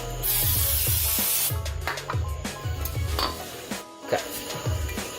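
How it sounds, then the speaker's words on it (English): Aerosol brake cleaner hisses in a long spray onto a car brake rotor during a front brake job on a GT86, followed by scattered metallic clinks and taps of parts being handled nearby. "we need to spray it off with some brake clean and wipe it down"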